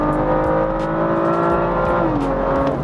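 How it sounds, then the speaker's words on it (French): A BMW M2 coupé's six-cylinder engine with an M Performance titanium exhaust holds a loud, steady raspy drone, its pitch easing slightly near the end, with no talk over it. "Ce bruit rauque là, le 6 cylindres, vraiment il chante très très fort"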